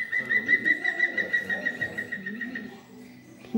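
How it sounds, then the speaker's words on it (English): A green woodpecker calls repeatedly with a steady, ringing tone, fairly close, over a low murmur of background noise, near Perth, Scotland. "Green woodpecker."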